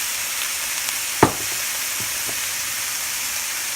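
Bitter melon and ground pork sizzle steadily in a hot pan, a constant frying hiss with one brief sharp clank of a utensil partway through.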